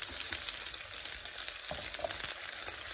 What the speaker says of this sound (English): Just gonna put them all in. And fry them until they soften.